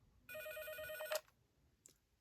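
A toy telephone bell for a doll: a short burst of trilling electronic ring cuts off abruptly with a click as the receiver is lifted, followed by a faint tap.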